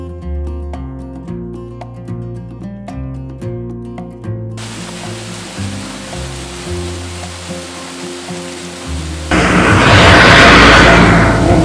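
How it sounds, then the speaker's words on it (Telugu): Valanjanganam waterfall on the route to Kochi: music plays first, then a steady rushing roar takes over and swells to a loud, close wash of falling water near the end. "కొచ్చి వెళ్ళే రూట్ లో మనకి ఇక్కడ వలజంగనం వాటర్ ఫాల్ కనిపించింది అనమాట."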